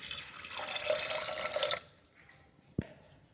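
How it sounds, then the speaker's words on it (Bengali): Water pours steadily into a pressure cooker holding peas, salt and turmeric for two seconds, then stops, followed by a single sharp metallic clunk nearby. "দিয়ে আমি জল দিয়ে দেবো।"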